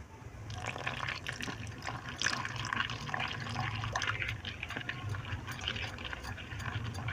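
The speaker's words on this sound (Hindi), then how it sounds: "अब इसमें हम डालेंगे थोड़ा थोड़ा करके पानी।" Water trickles steadily into a bowl of gram flour batter mixed with spices for eggplant fritters, a continuous close pouring and splashing sound with small drips, heard alone without talk.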